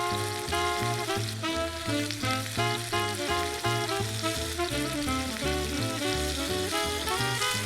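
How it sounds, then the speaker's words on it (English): A pork chop sizzles in olive oil in a frying pan on medium heat, giving a loud, continuous crackling hiss that fills the whole stretch with no talking. "I'm waiting for this thing to sizzle and giving us, oh, there it is."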